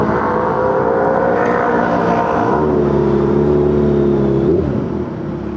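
A Honda CBR1000RR Fireblade motorcycle engine runs loud and close, holding a steady drone before the revs shift to a higher even tone and then drop back, with no talk.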